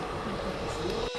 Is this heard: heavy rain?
no